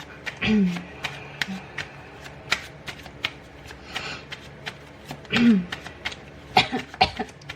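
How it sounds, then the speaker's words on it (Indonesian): Two short coughs, close and fairly loud, a few seconds apart, with rustling and soft handling noises in between. "Batuk ya."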